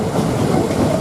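A train arrives at Basingstoke railway station, giving a loud, continuous close rumble with rhythmic wheel clatter on the rails and no voices.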